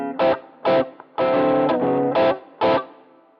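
Distorted electric guitar playing a 12-bar blues rhythm pattern with a ninth chord, loud and close with short choppy stabs alternating with longer sustained strums and gaps between them, no talking.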